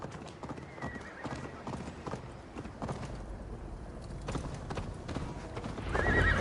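A horse gallops with rapid, steady clip-clop hoofbeats in Assassin's Creed Valhalla, with a whinny partway through and a louder surge of movement at the end.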